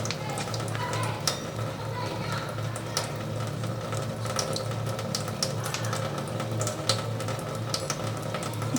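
A spoon stirs mashed potato filling with grated cheese and mayonnaise for aloo paratha, giving a steady soft scraping and squelching close up, with a faint voice in the background.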